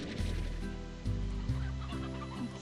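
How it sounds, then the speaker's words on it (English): Hens cluck in the Slime Rancher video game, a dense, busy chorus of close, overlapping clucks with a few louder squawks breaking through, and no talking. "Oh my goodness, there's so many hens!"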